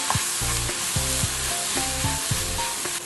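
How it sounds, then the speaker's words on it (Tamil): Vegetable spring roll filling is stirred in a hot pan, with a spatula scraping in repeated strokes over a steady close sizzle of frying. "நான் ஒரு தடவை கிளறிடுறேன்."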